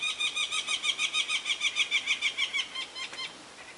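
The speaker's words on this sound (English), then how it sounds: "That is a woodpecker. I thought I'd let you listen to that." A woodpecker drums outside a vintage park model camper, a rapid series of about fifteen evenly spaced knocks in a steady rhythm that fades near the end, heard clearly from nearby with no talk.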